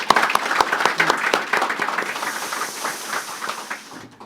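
A church congregation claps at a founding thanksgiving service, a dense burst of applause lasting a few seconds before tapering off.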